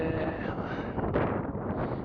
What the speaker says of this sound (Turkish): Şimdi Doruk'ta rüzgar var oldukça.